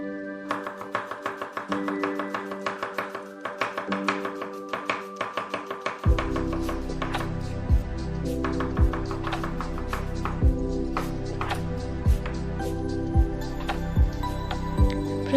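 Ingredients for spicy egg Maggi noodles are chopped on a board in a mini kitchen, with steady, close knife taps in a quick rhythm that later turn to heavier, spaced chops against a low background hum.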